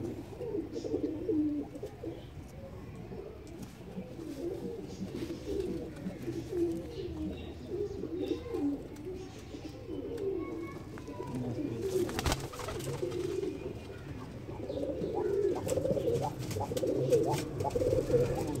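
Sialkoti pigeons cooing in repeated soft, rolling phrases close by, a steady low warble running throughout that grows slightly louder toward the end, with faint background noise and no talking.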